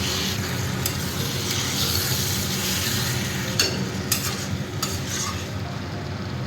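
Mushrooms fry and sizzle in a pan with a steady hiss, while a utensil stirs and scrapes through them, giving several sharp clinks against the metal.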